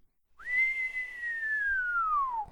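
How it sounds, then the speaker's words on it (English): A man whistles a single long note that starts high and slowly glides downward, clear and alone against quiet. "The general whistled."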